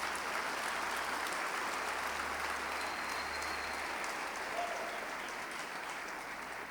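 A church congregation applauds, producing a steady wash of hand clapping from a large room that carries on evenly and softly, with no talking over it.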